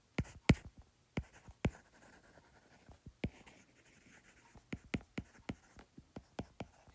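Chalk or marker writing on a board during a physics lecture, heard as a series of sharp taps and scratchy strokes in irregular bursts, close and fairly loud, with no talking over it.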